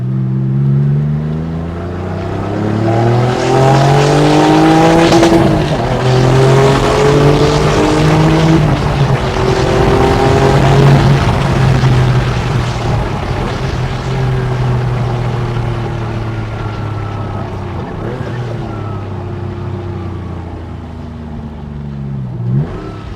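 A 1996 Porsche 911 (993) Turbo GT2-style sports car engine roars close by, its pitch climbing as it accelerates hard through the gears, then easing off into a steadier drone.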